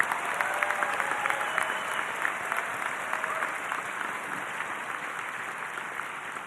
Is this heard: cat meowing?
no